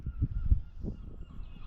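A Canada goose near a fishing lake gives a few low honks in quick succession, moderately close, followed by quieter background.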